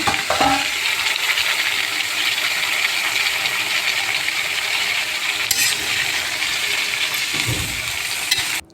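Carrot, beans and cabbage poriyal stirred together in a hot pan, a steady sizzling fry with scraping spoon strokes throughout, close and fairly loud with no talking.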